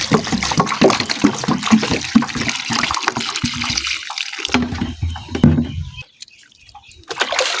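Water splashes and sloshes steadily as something is washed by hand, probably in a basin or under a tap on a poultry farm. The sound is close and continuous for several seconds, then drops away into near quiet before picking up again.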